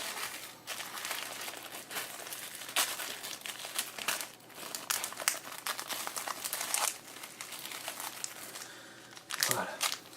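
A Yusei tin box card pack wrapper for Yu-Gi-Oh! is torn and crinkled open, giving steady close plastic rustling and crackling with a few sharper rips, while someone talks quietly over it.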